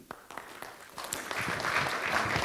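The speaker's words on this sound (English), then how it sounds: "A big round of applause." Audience applauding a speaker at the end of a talk at a live event, scattered claps swelling into dense, steady applause that grows louder toward the end.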